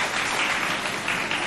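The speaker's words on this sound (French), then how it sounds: "applaudissez pour tous les candidats qui sont passés" School audience at an inter-lycée speaking contest applauding all the candidates, a short even wash of clapping heard from within the crowd, fairly soft.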